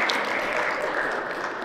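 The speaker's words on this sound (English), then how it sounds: "One round of applause." A crowd at an indoor event breaks into steady applause, a thick even wash of clapping at moderate loudness for under two seconds.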